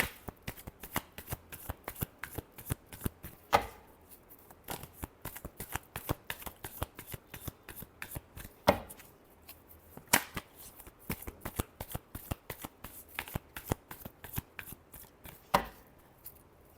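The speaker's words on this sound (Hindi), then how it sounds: "Last shuffle." A deck of cards is shuffled again and again, producing quick, crisp riffling clicks in a steady rhythm with occasional sharper snaps. The sound is close but quiet, with no talking.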